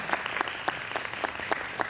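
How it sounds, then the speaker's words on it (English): An audience claps in a steady patter of many hands, moderately loud and close, with no voices over it. "can we give a round of applause for Mr. Garland here?"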